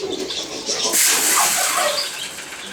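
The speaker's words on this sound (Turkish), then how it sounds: "Çatıda kuşları yemleyelim." Arab tumbler pigeons on a rooftop being fed give soft coos, and a burst of wing flapping rises partway through over a steady outdoor rush.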